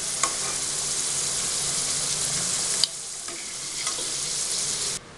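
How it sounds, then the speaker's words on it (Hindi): Potatoes fry in hot oil with a dense, continuous sizzle and scattered crackles, dropping slightly in level partway through before a sudden stop at the end. "आलू थोड़ा फ्राई करने के लिए डाल दे रही हूँ"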